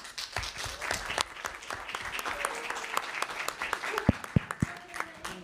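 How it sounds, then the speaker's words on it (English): Scattered, thin clapping from a small audience at a conference workshop, individual claps distinct and irregular rather than a full ovation, with a few sharp louder claps near the end. "is that how you clap? Is that how you clap? Clap properly."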